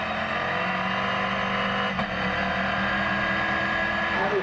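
NASCAR Whelen Euro Series race cars at Monza roar past in a steady, loud engine drone, with a rising engine note near the end and a commentator's voice running underneath.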